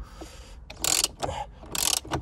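A wrench tightening a bolt on a Camaro, two bursts of rapid ratcheting clicks about a second apart, close and fairly loud, with softer metallic handling sounds between them.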